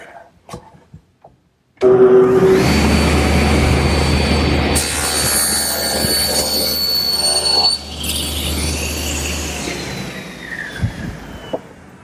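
A table saw rips a board against the rip fence in a Shaker washstand build. The blade spins up, then gives a loud, sustained whining cut that shifts in pitch midway, followed by a quieter tail and a few knocks.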